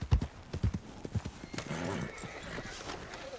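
Horse hooves clip-clop at a quick, uneven pace in Red Dead Redemption 2, close and fairly faint, with a brief whinny-like rustle after the steps; no one speaks.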